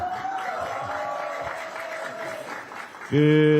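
A crowd at a Democratic Party meeting in Yeonggwang, South Jeolla, applauds in a steady wash of clapping under a voice, cut off by a sudden loud tone at the end.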